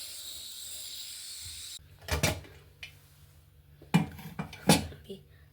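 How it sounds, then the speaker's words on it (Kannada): A steady hiss of cooking stops, then a metal pressure-cooker lid clanks and rattles in a few sharp, close knocks while it is closed over a simmering vegetable dish. "ಇವಾಗ ಲಿಡ್ ಕ್ಲೋಸ್ ಮಾಡ್ತೀನಿ."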